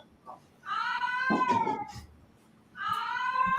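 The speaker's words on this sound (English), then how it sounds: "No, that's the cat." A house cat meows loudly twice, a long drawn-out cry followed after a pause by another, heard close up during a live fight-night watch-along stream with quiet room noise.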